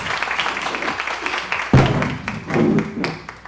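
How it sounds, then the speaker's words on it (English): An audience at a panel discussion on mental health applauds as a panelist is introduced, a short spell of scattered clapping followed by a sharper burst with some speech underneath. "Give her a round of applause."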